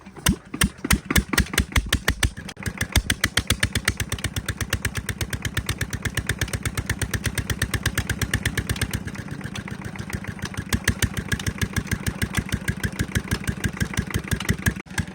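A diesel Peter engine runs steadily after starting, its rapid regular thumping chuff continuous and close throughout, with no talk over it.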